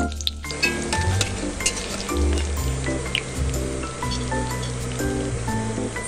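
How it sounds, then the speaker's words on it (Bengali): Bay leaf, dried red chilli and cumin seeds hit hot oil as tempering for chana dal, giving a loud, close, steady sizzle with crackling pops that runs without a break. "এবার ওই একই তেলে তেজপাতা, শুকনো লঙ্কা, সাদা জিরে ফোড়ন দিয়ে দেব।"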